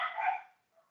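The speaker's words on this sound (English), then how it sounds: "sorry for the dogs" Several dogs in the background produce one loud, close bark followed by a much fainter short yip, then silence.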